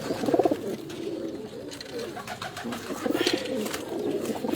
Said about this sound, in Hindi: और टैडी कबूतर।